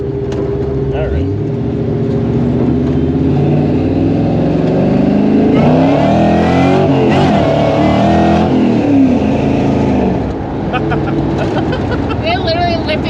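A supercharged 1955 Nomad gasser hot rod accelerates hard, its loud engine roar rising and swelling up close, while people talk over it inside the car.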